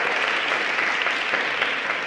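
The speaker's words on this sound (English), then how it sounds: "let's hear it for the Sadler-Wells dancers" An audience applauds dancers from the Sadler's Wells company at a public health awards ceremony: dense, steady clapping from a crowd, sustained without a break.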